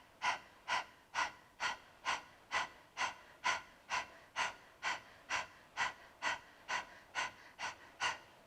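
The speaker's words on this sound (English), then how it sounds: "start panting as if you're a dog" Rapid rhythmic panting breaths for Breath of Fire practice, about two sharp, evenly spaced exhalations per second, close and clear, with no talk.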